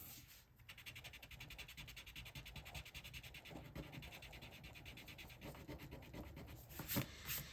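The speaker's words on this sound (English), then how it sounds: "This is a sand eraser," A sand eraser rubs back and forth on inked cardstock in fast, even scratchy strokes, close and quiet, with a brief louder scrape near the end and no talking.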